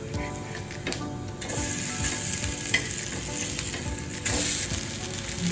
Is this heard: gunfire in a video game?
no